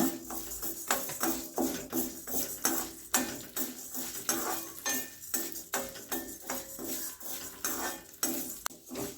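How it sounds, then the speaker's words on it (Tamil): Urad dal roasting in oil in a pan while being stirred, with a metal spoon scraping and clinking against the pan in a steady repeated rhythm, close and fairly loud, no speech. "100 உளுந்த பருப்பு அதையும் நம்ம அந்த எண்ணெயிலே போட்டு வறுத்துக்கணும்"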